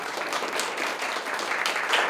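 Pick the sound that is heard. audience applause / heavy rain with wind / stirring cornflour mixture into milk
audience applause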